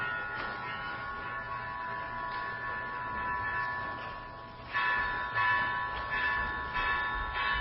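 A gong at a Buddhist gathering rings with long sustained metallic tones, struck again partway through so fresh bright strikes layer over the decaying hum, fairly close and without talk.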